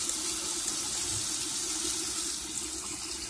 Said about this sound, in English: So first we turn on the water.